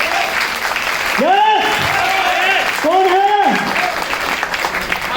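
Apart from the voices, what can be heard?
audience applause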